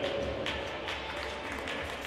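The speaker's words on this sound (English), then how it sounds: "Big round of applause for Stephen Turner as the Cougar faithful get off their seats." Crowd applause fills a college men's basketball gym as the home Cougar fans rise from their seats for a player, a steady broadband wash of clapping and cheering running throughout.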